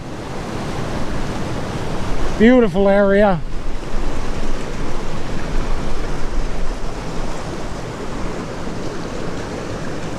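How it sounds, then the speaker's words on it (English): Broad, steady rush of the Grand River flowing through a scenic outdoor spot, with wind across the microphone and a brief spoken remark near the start riding over the continuous water noise. "There's a Grand River."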